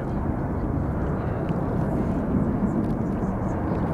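Steady, loud broadband jet roar of a Boeing 737 MAX 8 airliner at San Francisco airport, a continuous engine rumble holding level throughout, with a voice speaking over it.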